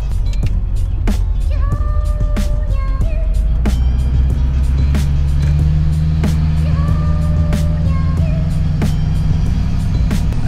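Duramax diesel pickup truck rolling slowly past police, a steady low engine drone and road rumble heard from inside the cab, with occasional clicks and faint tonal chirps over it.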